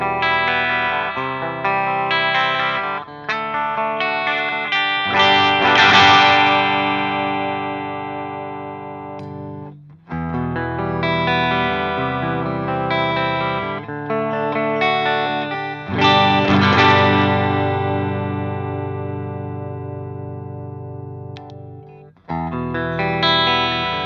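Gibson 1957 Les Paul Goldtop Reissue electric guitar played through effects with distortion and chorus, dense strummed chords and riffs over about twenty-four seconds with brief pauses and loud accented hits, close and full, no talking.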